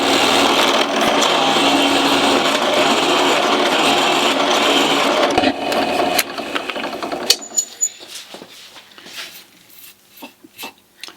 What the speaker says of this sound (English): The maple's very hard, difficult to drill through compared to the mahogany.